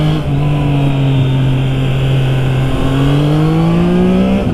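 A Triumph Trident 660 motorcycle rides through a run of small corners, its engine droning loud and steady, with the pitch sliding up and down as the throttle changes.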